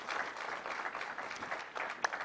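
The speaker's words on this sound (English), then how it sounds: "May we have a round of applause for these esteemed panelists." Audience applause for panelists at a regional health summit, a quiet, steady patter of clapping from a modest crowd, somewhat distant, with a few sharper claps standing out.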